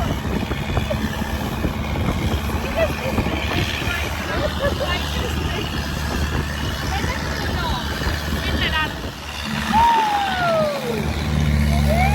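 A boat engine drones steadily on open sea near the Phi Phi Islands in Krabi, Thailand. Wind and water wash mix with it, and people chatter and call out over the rumble.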